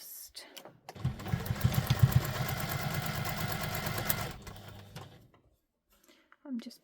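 A sewing machine bastes a leather-craft wallet piece, its motor whirring steadily for about three seconds at close range before stopping, followed by a brief low murmur near the end.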